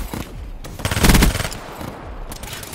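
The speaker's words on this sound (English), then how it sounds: "whenever you shoot this gun, the submachine gun on the Vesper" The Vesper submachine gun in Black Ops 3 fires in a rapid, loud, close burst, a rattling stream of shots peaking around the middle with a few shorter bursts after.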